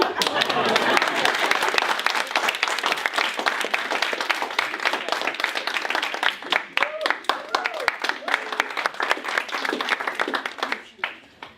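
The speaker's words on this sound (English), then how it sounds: "Applause." An audience applauds after a comic skit at a presentation finale, a steady patter of many hands with sharper individual claps, and voices talking over it throughout.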